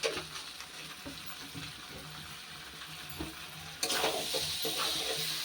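Potato and taro masala cooks in a pan with a low, steady sizzle and soft stirring, fairly faint, growing a little brighter near the end.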